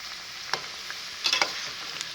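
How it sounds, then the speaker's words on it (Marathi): Onion bhaji, the crisp spiky Kolhapur style, fry in hot oil with a bright steady sizzle, broken by a few sharp crackles and pops, with no voices. "आता असेच भजी आपण हे सोनेरी अंगावर तळून घेऊया"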